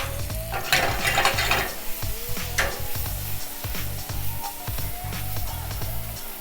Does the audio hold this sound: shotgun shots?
no